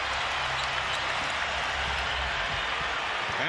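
Basketball arena crowd at the 2001 NBA All-Star Game roaring and applauding in a sustained broad wash, loud and continuous with no break, the noise filling the whole space.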